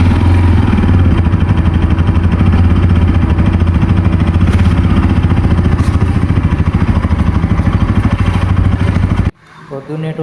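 Motorcycle engine running steadily and loud close by, a continuous low droning rumble with a strong low-frequency hum throughout, cutting off near the end, on a ride from Dilsukhnagar to Tank Bund in Hyderabad.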